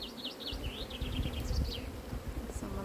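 Honeybees buzzing around an open beehive frame, a close, steady hum with individual bees whining past near the microphone, busy and continuous throughout.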